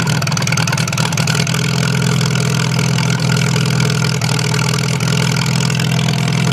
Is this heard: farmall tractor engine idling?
yes